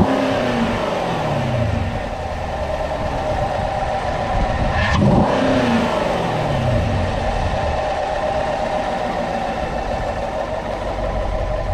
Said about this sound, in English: The engine still sounds pretty healthy, and let me let you guys hear it real quick.